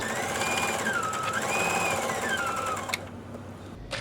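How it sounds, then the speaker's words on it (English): A sewing machine runs steadily while stitching fabric along the short side of a rice pack, a close whirring drone with shifting pitch that stops abruptly near the end. "I can go ahead and continue sewing down the short side"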